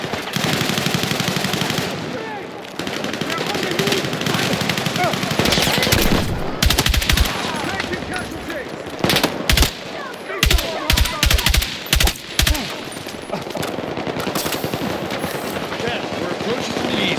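Gunfire in the Battlefield 6 video game: loud, near, rapid machine-gun bursts that alternate with sustained automatic fire, dense and continuous, with heavy booming shots clustered near the middle of the stretch.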